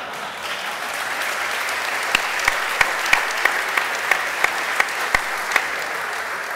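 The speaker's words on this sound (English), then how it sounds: "Only at JSConf do you get applause for breaking like half the web." Conference audience applause, a broad sustained wash of clapping from a large crowd, with a few sharper nearby claps standing out at regular intervals and no talking over it.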